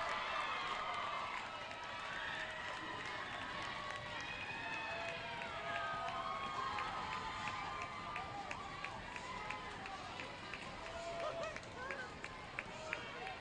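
A hometown crowd cheers at a roller derby bout between Arizona and Los Angeles teams, a sustained, distant roar with scattered claps running under an announcer's commentary.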